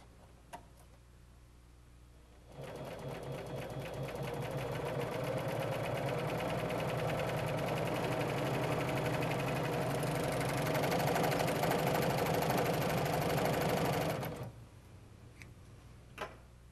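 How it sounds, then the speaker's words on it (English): A Husqvarna Viking Huskylock 936 serger stitching fabric runs in one steady whirring, rapidly ticking stretch of about twelve seconds, close and moderately loud, starting and stopping cleanly with quiet room tone before and after. "Take a couple of stitches, then snip the front needle thread."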